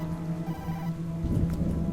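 A phone rings from inside a paper bag in the video game Tokyo Dark, a steady electronic tone with a low hum and muffled rustling texture, no talk.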